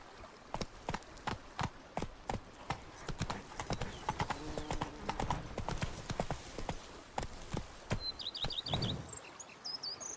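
Horse hooves gallop in The Witcher 3 video game, a quick steady clip-clop close by, with faint bird chirps near the end.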